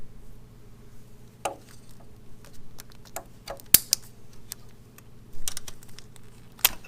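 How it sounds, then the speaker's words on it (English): Cutters snip through a zip tie on a BMW G310 motorcycle during charging system diagnostics, giving one sharp click among scattered small clicks and handling noises, close by over a low background hum. "So clip this zip tie here."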